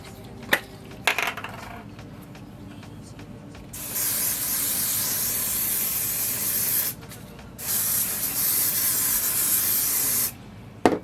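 Edge hair spray hisses from a can onto natural hair styled into a sleek ponytail, in two long steady bursts of several seconds each with clicks and handling noise around them, close and loud.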